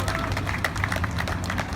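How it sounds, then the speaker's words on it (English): Applause from a crowd at an outdoor anti-displacement rally, a steady dense clapping wash that runs the whole time without a break, with some cheering mixed in. "let's give another round of applause for all of you"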